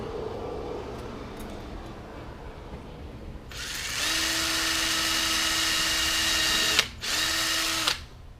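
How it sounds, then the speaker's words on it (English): A power drill whines steadily for several seconds, briefly stops, then runs again for another second; quiet handling noises come before it. "we're going to try drilling some holes in this"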